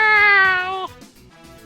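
A person imitates a cat's meow with one long, loud, drawn-out call that cuts off sharply, followed by quiet room noise and a brief sound at the end.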